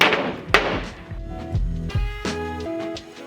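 A nail gun fires several sharp shots in irregular succession, fastening plywood shelves to a frame for mobile garage storage, each crack close and loud with short ringing tails.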